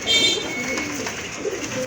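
A pigeon coos softly nearby in a pigeon collection, a short low murmuring call with faint background noise and no clear talk.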